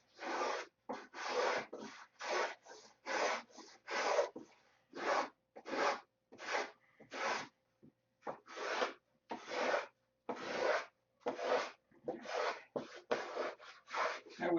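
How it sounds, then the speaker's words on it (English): Hand sanding on a model airplane fuselage at a workbench: a long run of short, regular raspy strokes with brief pauses between them, close and clear. "I was sanding on my bench again today for a little while."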